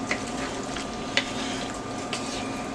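Baked ziti ingredients being stirred in a pan on the stove, with a steady close sizzle and soft scraping under it, plus a few sharp utensil clinks against the pan.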